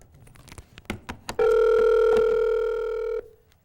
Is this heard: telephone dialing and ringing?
yes